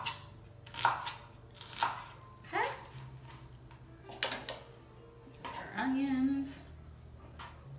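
A knife slices an onion on a cutting board for shrimp fajitas, making a few separate, close knocks on the board between stretches of talk.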